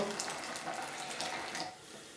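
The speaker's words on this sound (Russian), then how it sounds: "Наливаем туда воду." Just-boiled water pours in a steady splashing stream, fairly close, tapering off slightly toward the end.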